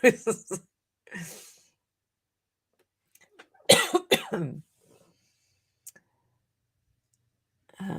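Someone coughs a few times, brief harsh bursts with silence between, alongside a little speech and a couple of faint clicks.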